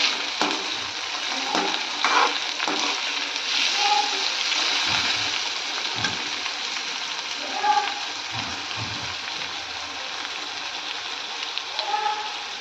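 Tomato and spices frying in oil for a soybean curry, a continuous sizzle with scattered stirring scrapes and taps, heard up close with a voice talking over it at times.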